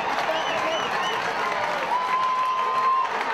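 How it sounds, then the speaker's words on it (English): Crowd cheering at a rugby grand final between Queanbeyan and Tuggeranong, a continuous loud roar of spectators with whistles and shouts, steady throughout. "The crowd is absolutely going bananas."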